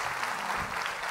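Studio audience applause on the quiz show Kim Milyoner Olmak İster, a brief, steady wash of clapping held at an even level for about a second.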